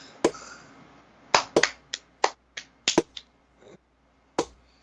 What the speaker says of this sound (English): there's like no passion in that clapping at all